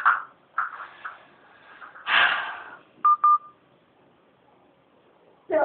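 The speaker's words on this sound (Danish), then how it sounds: "Det var en telefon, det der" Telephone dialing tones sound indoors as a short sequence of separate bright beeps, with brief bursts of other sound before and after.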